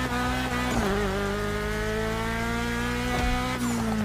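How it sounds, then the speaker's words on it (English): An original Audi Drally car engine from the racing video game The Crew Motorfest hums at a steady, buzzy high idle with slight pitch wobbles and a couple of brief revs, constant and close, no voices. "This is the sound of the original Audi Drally from Motorfest,"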